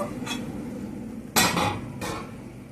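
A utensil stirs ragi upma in a pan, giving a few short scraping strokes against the metal, one sharper and louder than the rest, over a low steady background.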